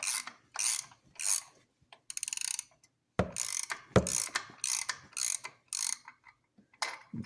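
A ratchet wrench loosens a bolt on the supercharger of a 2002 Corvette Z06, sounding as quick bursts of clicking in irregular strokes with short pauses, close and fairly quiet, with no talk.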